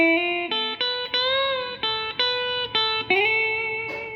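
A guitar phrase with hammer-ons and a bend up, a run of clear, plucked notes in a steady rhythm that end in a rising bent note, played alone and close without talking.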